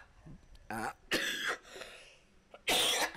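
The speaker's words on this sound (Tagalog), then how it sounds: "pasensya na kayo, medyo may ubo ko ngayon" Several hoarse, heavy coughs from one person nearby, spaced irregularly with quiet gaps, the last one loudest.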